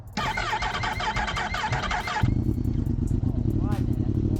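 A rebuilt 2016 Yamaha R1M sport motorcycle engine roars close by, revving hard then dropping to a rumbling idle, with people talking over it.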